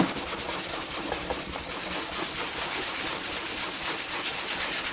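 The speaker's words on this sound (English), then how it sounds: "gets most of the crummy crap off of there, but it doesn't get the bigger chunks off unless you really scrub" Rhythmic scrubbing of grime off a weathered Raptor 700 ATV with WD-40, repeated brisk back-and-forth rubbing strokes, close and steady, with no talking.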